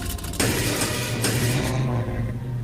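A car engine runs loudly and steadily up close after a repair at a roadside garage, a deep low hum with a brief rise in revs and no talk over it.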